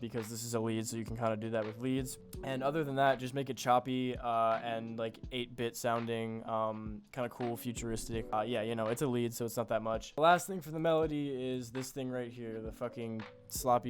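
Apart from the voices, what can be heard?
No everyday noise stands out behind the speech.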